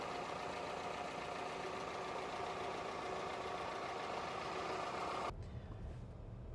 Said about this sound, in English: That's how it should sound. Smooth idle.